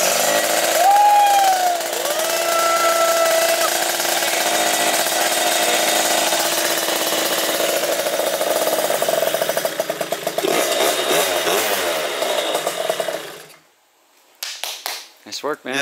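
A 94cc Malossi RC One engine in a Derbi GP1 scooter runs loudly and steadily at a high idle for about thirteen seconds with slight rev changes, then cuts off abruptly, with a few brief bursts of sound after.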